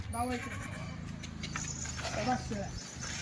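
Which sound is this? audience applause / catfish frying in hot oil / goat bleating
goat bleating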